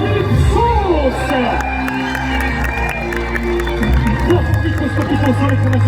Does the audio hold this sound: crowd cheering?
yes